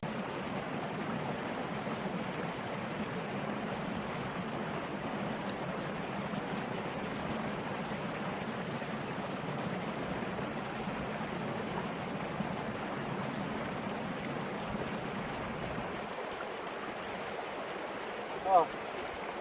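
A river stream on a Dartmoor hike flows in a steady, even rush that holds close and fairly quiet throughout, with no talk over it.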